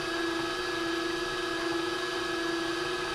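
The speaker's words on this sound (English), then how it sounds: "we want to blend it so it gets all nice and creamy" A kitchen blender whirs at low speed as it purees a creamy shrimp mixture. The motor hum is steady and moderately loud, with no one speaking.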